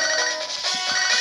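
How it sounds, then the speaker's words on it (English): A phone call ringtone from the Pokemon HeartGold video game plays as a bright, high electronic trill, brief and continuous, with no voices. "Speak of the devil. Phone call."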